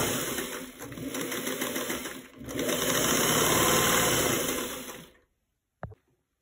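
A sewing machine stitches the hem of a salwar in two loud, close runs with a brief pause between, then stops abruptly, followed by a single short knock.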